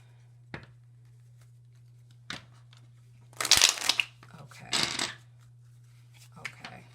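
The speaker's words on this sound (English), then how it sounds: "I'm mid-shuffle." Psychic reading cards being shuffled by hand during a celebrity reading, heard as a few scattered riffling bursts and soft card slaps over a steady low hum, with quiet gaps between them.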